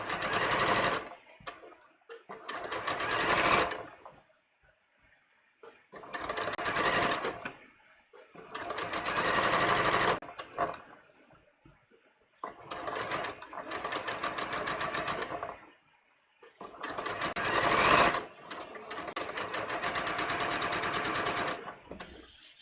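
A sewing machine at a 3.2 stitch length stitches down seam allowances during collar construction, running in five or six separate bursts of a few seconds each with short quiet pauses between them.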